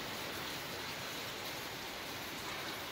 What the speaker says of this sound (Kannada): ಮಳೆನೂ ಅಷ್ಟೇ ಜೋರಾಗಿ ಬರ್ತಾ ಇದೆ.